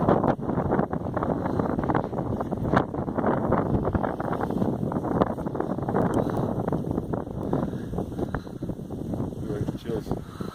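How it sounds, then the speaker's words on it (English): Strong wind buffets the microphone in a constant roaring rush, with a voice faintly talking beneath the gusts. "It's really, really windy. Ice cold windy."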